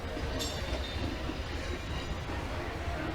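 Video game trains from Bounty Train roll steadily along rails with a continuous low rumble and faint metallic clatter, with no voices.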